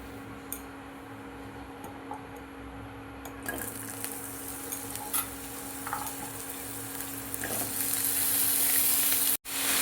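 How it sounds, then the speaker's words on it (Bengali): Potatoes frying in hot oil in a wok. A continuous sizzling hiss swells after a few seconds and grows louder toward the end, with occasional stirring clinks and no talking. "কড়াইয়ে তেল গরম হয়ে গেছে, এবার আমি আলুগুলো ভেজে নেব।"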